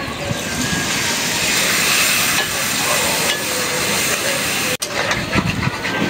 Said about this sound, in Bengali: এখন দিয়ে দিচ্ছি পানি।